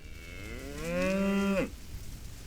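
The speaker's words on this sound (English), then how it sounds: "farmer Daniel Bonacker releases his cows onto a 30-foot strip of fresh" A cow on a rainy Missouri cattle farm lets out a single loud, drawn-out moo that rises and then cuts off sharply, close by over a soft wet background hiss.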